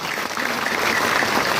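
An audience at a MIDIGIWORLD promotional program in Guwahati claps together in a dense, even burst of applause, brief and fairly loud.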